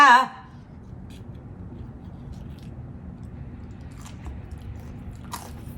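A mouth bites into fast food with a signature sauce and chews softly. A brief voice opens the clip, followed by faint, close crunching and squishing.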